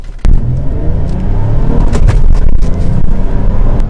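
Nissan Altima SE-R with a manual gearbox accelerating hard from inside the cabin, its engine note rising steadily and loudly after a brief pause, with no talking.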